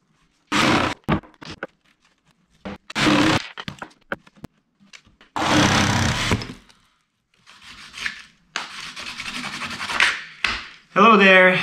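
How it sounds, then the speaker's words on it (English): Wooden mini drumsticks being sanded by hand in bursts of rough, scratchy rubbing, with several separate strokes and short pauses between them, close and moderately loud. "I'm sanding again"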